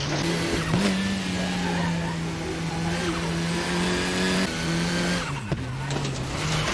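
A KTM X-Bow race car spins out at the Knutstorp circuit in a racing video game, its engine droning steadily while the tires squeal and skid. The spin peaks with a sharp shift late on, and no one speaks.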